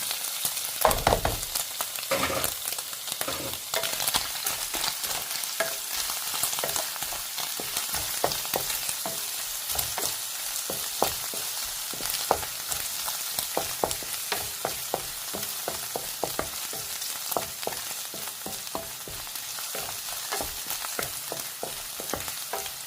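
Garlic fries in a pan for a Korean seaweed soup, sizzling steadily throughout, with frequent sharp clatters and scrapes as it is stirred.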